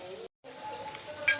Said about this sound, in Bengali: আলুটা ভাজা হতে হবে।